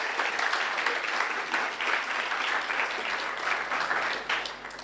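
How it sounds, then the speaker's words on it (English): An audience at a mathematics lecture series on fixed point theory claps for research students, a steady, moderately loud round of applause that swells and holds for about five seconds. "we should have a clap for these students at least"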